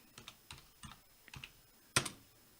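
Quiet, close clicks of a computer keyboard as a terminal command is typed on a Raspberry Pi setup, a quick uneven run of keystrokes ending in one louder, firmer press.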